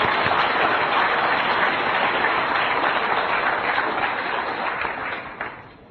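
Sustained audience applause fills the room at a talk, dense steady clapping from a large crowd that tapers off slightly toward the end, with no voices over it.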